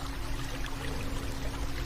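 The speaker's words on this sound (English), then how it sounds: "The sound of the water blends with the wind" Water pours and trickles steadily outdoors in Albania, a dense continuous splashing rush with a faint hum beneath, close and unbroken.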